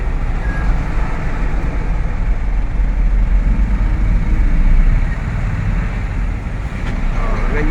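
Constant roar of road traffic at the Baldipuente bridge during bridge construction, with engines and tyres rumbling close by and a brief dip in level near the end.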